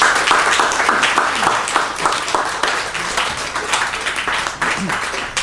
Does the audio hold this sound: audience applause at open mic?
yes